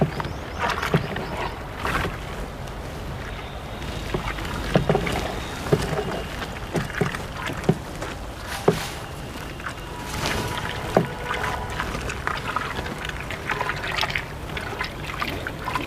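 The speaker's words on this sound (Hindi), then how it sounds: "देखिए डंडे से धीरे धीरे चलाइए, धीरे धीरे डालेंगे ताकि ये पूरा पूरा इसके अंदर डूब जाए।" A stick slowly stirs a micronutrient mixture for crops in water, giving soft, continuous sloshing and trickling with scattered light knocks and splashes at a steady, unhurried pace, fairly close and alone without talk.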